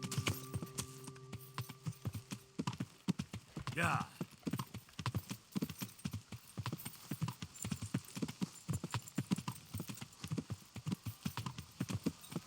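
Horse hooves galloping in the medieval video game Kingdom Come: Deliverance: a rapid, steady clip-clop rhythm that runs throughout, with a brief whinny early on and someone talking over parts of it.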